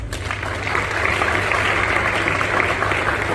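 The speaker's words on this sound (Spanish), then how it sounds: "muchas gracias y ese merecido aplauso" An audience applauds police officers at an anniversary ceremony honoring the national police, a steady crowd clapping over a low background hum for a few seconds.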